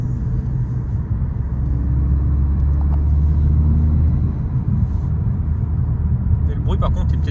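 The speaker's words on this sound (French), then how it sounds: "même en accélérant de l'intérieur, ça fait un peu de bruit" A Ford Focus ST 2.0 estate's engine drones steadily from inside the cabin, a low rumble rising slightly in pitch as it accelerates, with faint clicks near the end.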